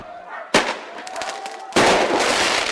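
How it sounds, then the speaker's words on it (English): Sharp bangs of firecrackers burst out during a nighttime street riot, a loud crack followed by a sustained noisy roar of chaos and crowd noise in a district turned battle zone. "Bricks, firecrackers and flames filled the night air."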